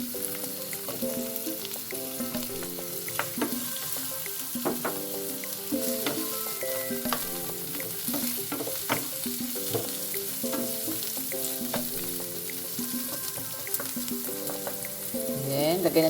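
Chayote hits a hot pan for pancit canton and is stir-fried, crackling with a continuous sizzle punctuated by frequent clinks and scrapes of a utensil against the pan.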